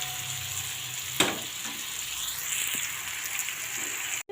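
A paste of green chili, cumin, ginger and poppy seed fries in a pan for a vegetarian dish, giving a steady close sizzle with a brief clatter of stirring partway through.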